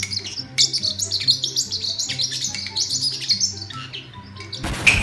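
Parrot chirps and tweets in quick, bright repeated bursts, fairly close and loud, with a sharper squawk near the end; no talking.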